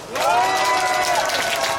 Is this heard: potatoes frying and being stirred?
no